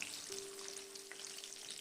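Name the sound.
eggs frying in hot oil in a wok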